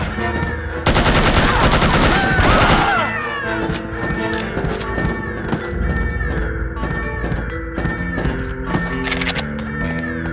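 Rapid bursts of video-game gunfire from The Operative: No One Lives Forever, a loud, dense barrage in the opening seconds, then scattered shots and clanking game effects continuing at a lower level.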